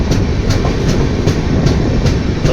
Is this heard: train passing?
yes